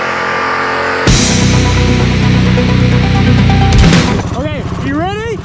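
A Mega Moto 212 mini bike engine running loud and close with a steady droning hum that abruptly jumps up, holds, then cuts off into a buzzier idle with rising and falling revs, with no talk.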